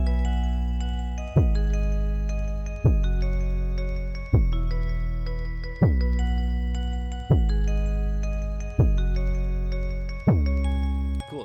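A chiming arpeggio pattern rolls over deep booming 808 bass hits that land regularly about every one and a half seconds, loud and upfront.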